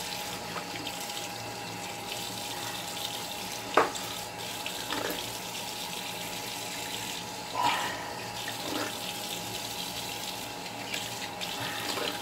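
A bathroom tap runs steadily after a shave, with a few brief splashes and clinks of rinsing at the sink. The sound is close and moderate, with no voices.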